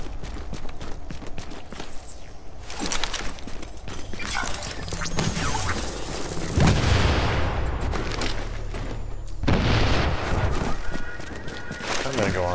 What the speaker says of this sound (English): I'll hear loud explosions.